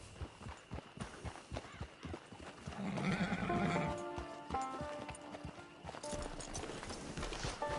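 A horse in the Red Dead Redemption video game clip-clops at a walk with rhythmic hoofbeats, then lets out a whinny midway, while a character's voice talks over the scene.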